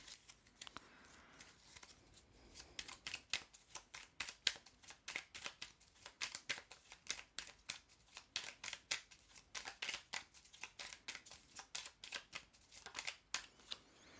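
A deck of cards is shuffled close up, a long run of quick riffling and flicking sounds in an uneven rhythm, fairly soft with no talking.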